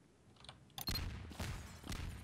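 A sudden loud burst hits partway through a round of Trouble in Terrorist Town with friends, followed by a couple more heavy booming swells over a noisy game mix.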